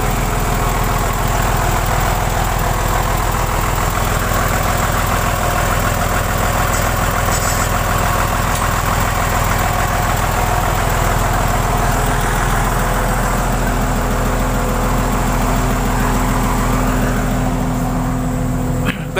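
An old vehicle's engine idles steadily after starting, a loud, continuous rumble with constant vibration and no voices throughout.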